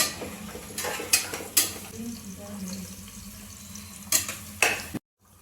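Onions and carrots frying in a pan for vegetable biryani, stirred with a few sharp clanks and scrapes of the spoon against the pan over a low sizzle. Close and moderate in level, ending abruptly.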